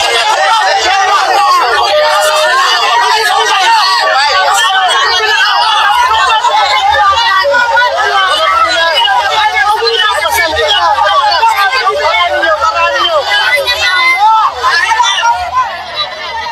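A large crowd at a political rally in the Philippines shouts and jeers at a nun, a continuous dense roar of overlapping voices and yelling that holds loud and steady throughout, with no single voice standing out.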